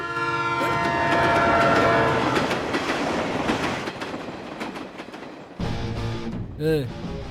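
A train rumbles past in a film scene from Autonagar Surya, loud and close with a rolling roar, tonal horn-like notes, then an abrupt cut to a different, quieter passage.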